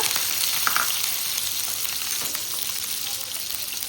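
Steady, bright sizzling of onion frying in hot oil, continuous and close, with no talking.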